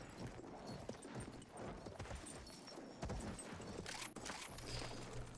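A horse in the video game Battlefield 1 trots with a faint, continuous clip-clop of hooves under a dense, noisy game soundscape, with a brief burst of louder noise near the end.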